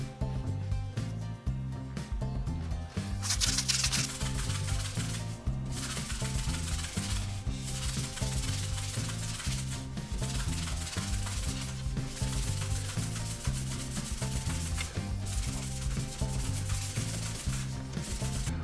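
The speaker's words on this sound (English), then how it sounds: "Okay, our next step then is to slightly abrade the surface. As I say, I'm using 240 grit." Fine 240-grit abrasive rubs over a galvanised metal surface in steady, even back-and-forth strokes, close and continuous for the whole stretch, with no talking.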